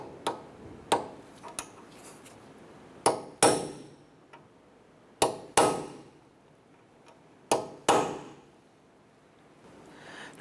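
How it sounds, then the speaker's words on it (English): A hammer strikes a punch to dimple a Honda Accord axle nut in a garage, giving sharp metallic blows with ringing decay, some single and some in quick pairs, close and loud with pauses between. "we're going to go ahead and use a punch, and we're going to dimple the axle nut"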